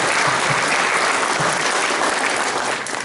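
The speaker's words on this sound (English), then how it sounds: "if you'd give her a round of applause." A crowd at a political town-hall event with Texas state legislators breaks into loud, sustained applause, thick continuous clapping that fills the moment and eases slightly at the very end.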